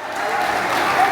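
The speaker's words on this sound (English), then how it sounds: "It is the sound, the passion of the crowd echoing in the echoed chamber that is the Round House Arena in Garapan." Crowd applause echoing inside the Round House Arena in Garapan at a wrestling event on mats, a dense, steady wash of clapping that fills the hall for about a second.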